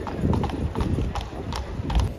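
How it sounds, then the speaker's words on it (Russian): Horses' hooves clip-clopping at a winter fair, a steady rhythmic patter of hoofbeats under a woman's speech, moderately close. "Очень передают атмосферы эти лошадки."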